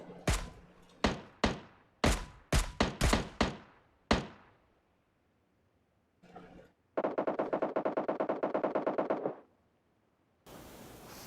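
PUBG Mobile gunfire: a string of single loud shots with short echoing tails, then a pause and a fast automatic burst of evenly spaced rounds, all close and clear.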